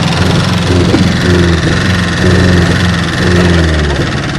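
An Opel car engine running after being filled with the wrong gasoline roars loudly and steadily up close, with a rough, throbbing low drone and slight surges in pitch.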